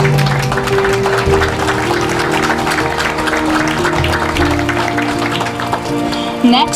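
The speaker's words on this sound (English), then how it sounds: "If we could have a round of applause for the Rod and Kathy Lovelace family." Outdoor crowd applause at a downtown clock dedication ceremony, loud, continuous clapping mixed with steady background hum and tonal sounds from the setting throughout.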